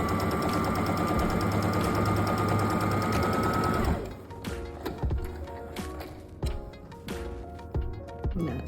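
Sewing machine running a plain straight stitch, a fast continuous mechanical whir with a steady pitch that stops after about four seconds, followed by scattered clicks and small handling knocks.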